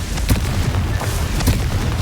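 A Confringo fire spell explosion in Hogwarts Legacy: dense booming bursts with two sharp peaks, one early and one in the middle, over a continuous rumbling fiery roar.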